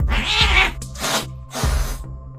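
Cats yowl and screech close by in three harsh, drawn-out cries with short gaps between them, loud and strained.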